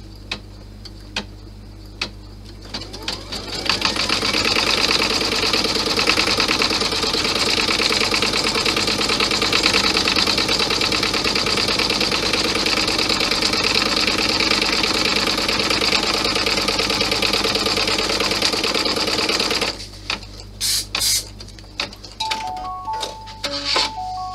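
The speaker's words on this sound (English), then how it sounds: "So stitch out your placement." An embroidery sewing machine stitches out a placement line, a steady close mechanical whir with rapid ticking that runs for about sixteen seconds, framed by quieter clicks and handling noises before and after.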